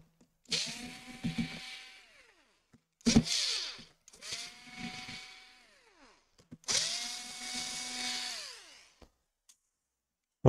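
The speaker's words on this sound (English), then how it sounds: "Seems like the battery is dying on this screwdriver." A battery electric screwdriver removing laptop screws: three whirring bursts that spin up, hold a steady pitch and wind down, close and fairly loud with pauses between.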